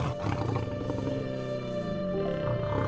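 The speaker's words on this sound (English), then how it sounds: "There's no sound in the wild that is as amazing as the roar of a lion." A wild lion in Zambia roars, a loud, deep, drawn-out rumbling call with rising and falling tones that fills the whole stretch, with no other sounds over it.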